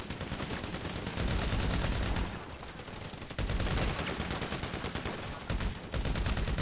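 Automatic machine-gun fire in a GTA video game rattles in rapid sustained bursts, loud and close, with short pauses between volleys and no voices over it.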